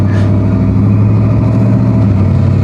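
A 1955 Oldsmobile with a 4L60E transmission accelerates in second gear, a loud, close engine drone holding a steady, gradually climbing pitch without a break.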